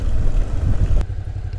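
Motorcycle engine while riding on a road trip near Tilcara and Purmamarca, a loud low rumble with wind buffeting that suddenly drops off about two-thirds through, short and close.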